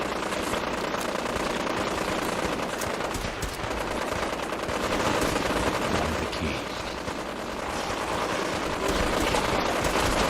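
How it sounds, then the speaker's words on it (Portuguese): Dense automatic gunfire and shots rattle nonstop through a firefight in Fallout 4, loud and close, with voices faintly underneath. "Eu não vou conseguir fazer nada aqui com esse tiroteio todo com a pistolinha"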